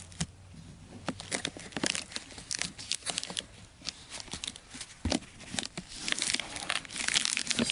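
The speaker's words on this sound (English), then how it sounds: "I'm sealing all the edges with an all-weather clear tape." Clear all-weather tape is pulled and pressed along the edges of a seed nursery box used as a mini greenhouse, giving close crinkling and tearing rustles in irregular bursts, without any talk.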